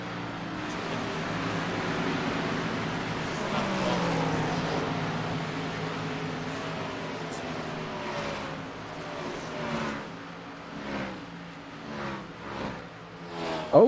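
A race car accelerates down pit road during a DBR 300 race at Charlotte, its engine drone holding steady and loud, then breaking into uneven revving pulses toward the end.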